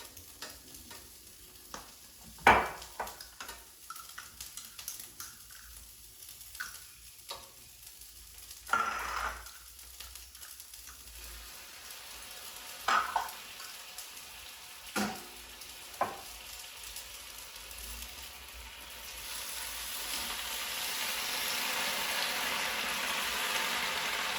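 Fresh spinach stir-fried in a pan for a vegan Korean bibimbap, with scattered scraping stirs and clinks over a soft sizzle that swells into a louder, steady frying hiss toward the end.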